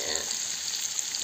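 Hot oil sizzles steadily in a pan over a wood-fired clay stove, readied for a parrotfish curry; a dense, continuous frying hiss fills the whole short stretch without pause.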